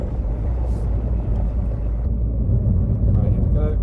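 An unreliable car being driven after a repair, a steady low engine and road rumble from inside the cabin, loud and continuous, with a voice talking over it.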